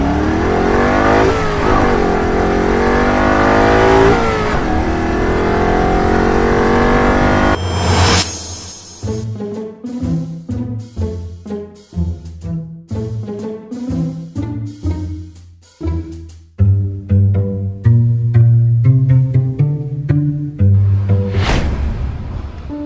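A motorcycle engine revs hard at close range in short, repeated throttle blips after a steady, loud idle-to-high roar, each burst rising and falling sharply.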